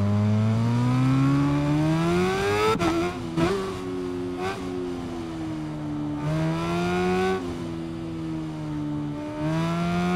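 A racing motorbike in the Ride 5 video game runs hard through a lap, its engine note climbing and dropping with gear shifts in a loud, continuous, near whine.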